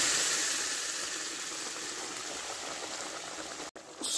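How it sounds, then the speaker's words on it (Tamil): Boiled sambar pours into lady finger fried in ghee, making a continuous loud hiss of liquid and sizzle that fades slightly, then cuts off abruptly near the end. "கொதிச்ச சாம்பாரை இதில் ஆட் பண்ணிக்கிங்க"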